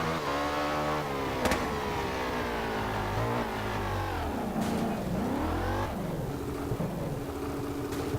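A motorcycle in the MotoGP 14 video game rides over off-road ground, its engine revving loudly and steadily with rising and falling pitch as it accelerates and shifts.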